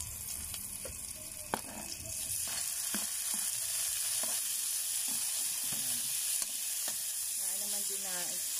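Chopped tomatoes fry in a pan after golden-brown onions, a steady close sizzle and hiss running throughout with occasional stirring clinks and scrapes.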